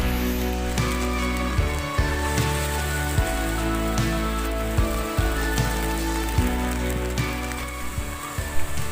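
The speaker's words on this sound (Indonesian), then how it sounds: "trek yang mulai melumpur dan hujan kembali turun" Rain falls steadily on a muddy mountain trail on the Panderman route up Mount Buthak, a dense continuous patter close to the microphone, with no talk over it.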